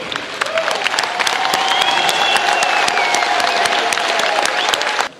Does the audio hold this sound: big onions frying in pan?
no